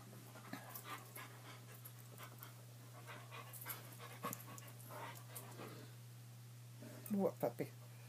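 A puppy pants softly on a bed, quick faint breaths spread through the stretch with an occasional small whimper near the end, beneath a steady hum and people talking.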